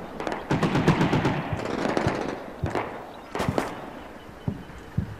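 Bursts of machine gun fire crackle in the Combat Mission Shock Force video game, rapid close rattles in several separate volleys with sharp single cracks between them, loud and without talk.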